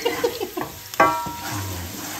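Garlic sizzling in a pan with oil at the start of a Filipino beef mechado: steady frying hiss with a few utensil clinks and stirring scrapes, fairly close.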